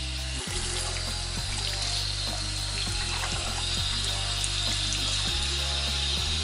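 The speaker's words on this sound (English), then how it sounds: "I take the bar of soap and I wet it. Wet the brush" A tap runs steadily into a sink as a makeup brush and bar of soap are wetted, a continuous close splashing stream with small irregular shifts in the flow.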